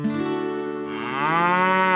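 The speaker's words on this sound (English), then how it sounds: "It's a calf! Moo, moo!" A calf gives one long, loud, close moo that rises in pitch partway through and holds steady to the end, with no talking over it.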